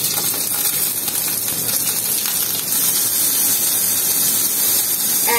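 Dried chillies, chana dal and chopped onion sizzle and hiss steadily in a hot pan with oil and mustard seeds, a dense, continuous frying crackle close by with no one talking.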